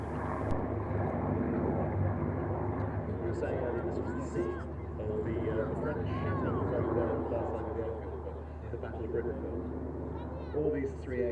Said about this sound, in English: Spitfires into pairs. Pairs go.